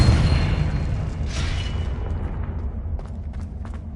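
A Confringo blasting-spell explosion from a Harry Potter film: a deep, loud boom that rumbles and slowly fades over several seconds, with a few faint crackles near the end.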